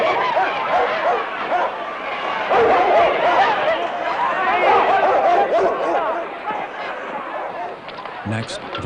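Police dogs barking at civil rights demonstrators during a 1963 street march, agitated barks and yips over a loud crowd with chatter and shouting throughout.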